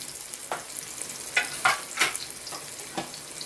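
Marinated pork goes into a pan of garlic and onion and fries with a soft continuous sizzle, broken by several sharper spattering bursts and stirring scrapes, close up and with no talking.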